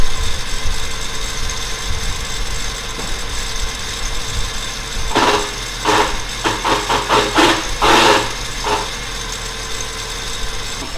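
Car engine idling with a failing idler pulley, a steady hum overlaid midway by a run of irregular knocking, chattering ticks that come and go.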